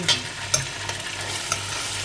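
Hamour fish pieces fry in oil, a soft, steady sizzle broken by a few light clicks and stirring knocks.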